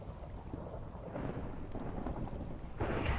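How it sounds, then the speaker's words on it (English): Thunderstorm in the video game Minecraft: a loud, continuous rolling thunder rumble with rain hiss throughout, swelling toward the end. "And now it's thundering out."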